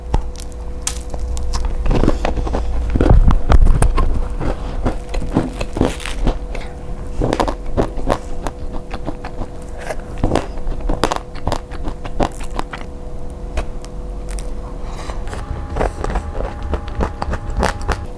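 Repeated crunchy bites and chewing of a pecan macadamia cookie, close to the mic, with irregular crackling crunches scattered over about eighteen seconds and no speech.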